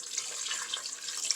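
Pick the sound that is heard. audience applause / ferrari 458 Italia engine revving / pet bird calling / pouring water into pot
pouring water into pot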